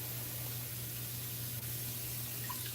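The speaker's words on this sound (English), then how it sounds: "I think I'm gonna have to siphon out some of this water" Water is siphoned out of a lagoon aquarium in a steady broadband hiss and rush, with a low hum underneath. The flow runs continuously with no voices.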